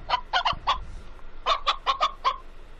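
A rooster sound effect from the Dora the Explorer Click Create video game plays as two close sets of short, bright clucking bursts in a quick rhythm, clear and alone with no talk.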